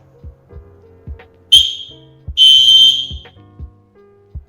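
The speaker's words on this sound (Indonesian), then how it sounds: "sandi Morse yang menggunakan peluit" A shrill whistle sends Morse code, a short blast followed by a longer one, clear and close, against a background of faint low thumps.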